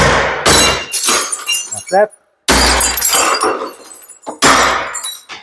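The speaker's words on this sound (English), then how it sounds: "Hoping not to smash the top glass, because it happens." Glass cracks and shatters with sharp, loud crashes while a cast iron window is removed, the breaks coming in several bursts, and someone speaks briefly.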